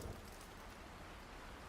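Rain falling steadily in the trucking video game American Truck Simulator, a soft, even hiss of raindrops on surfaces, faint and continuous with no voices.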